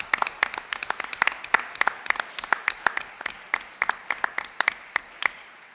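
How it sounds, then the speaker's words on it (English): Scattered applause at a school board meeting honouring elementary students, a modest group of individual hand claps heard distinctly and close, irregular and sustained for several seconds with little talk. "Please give them a round of applause"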